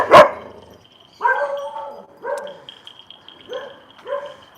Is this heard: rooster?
no